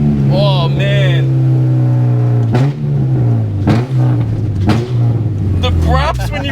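A loud, throaty K-swapped Honda exhaust drones and revs, with a few quick throttle blips rising and falling, and a voice talking over it.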